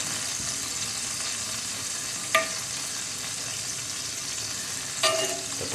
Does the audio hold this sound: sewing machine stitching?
no